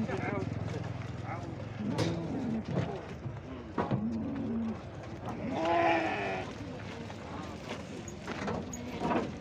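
Sheep bleat repeatedly at a busy weekly livestock souk in Fkih Ben Salah, Morocco, several close calls rising over constant crowd chatter and nearby talking.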